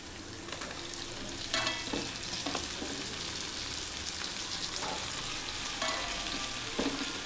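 White eggplant fries in a pan with a continuous loud sizzle, broken by several scraping stirs of the spoon, close and without voices.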